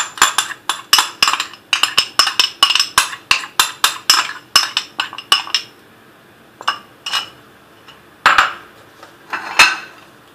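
A utensil clinks rapidly and steadily against a bowl while gelatin is stirred into a no-bake blueberry Oreo cheesecake mixture, then the strikes thin out into a few sparser taps; close, crisp and with no talk.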